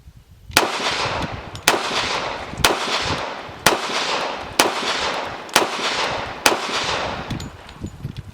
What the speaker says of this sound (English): it shoots like a 1911 GI model